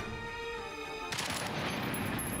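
Gunfire from the tactical video game Jagged Alliance 3 breaks in partway through as a dense, sustained burst of shots over a steady background hum.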